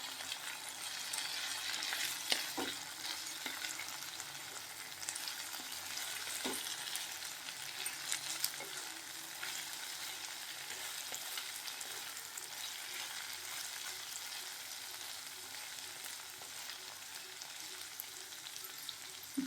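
Vegetables stir-fried together with pre-fried paneer pieces in a pan for paneer rolls: a constant close sizzle with occasional spatula knocks and scrapes as everything is tossed, no talking.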